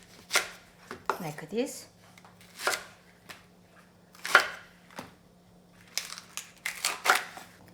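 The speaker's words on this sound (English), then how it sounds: "So I will just cut around 4-inch long." A knife chops green onion into roughly 4-inch lengths on a board, with a series of separate crisp cuts spaced irregularly apart, close and moderately loud, and a brief spoken remark near the end.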